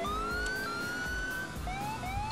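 A police car siren from the video game GTA IV wails in steady rising and falling sweeps, loud and close, running the whole time with no talking.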